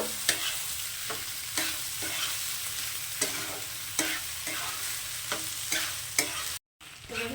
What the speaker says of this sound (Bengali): চালটাও এখন আমি একই সঙ্গে একটু ভেজে নেব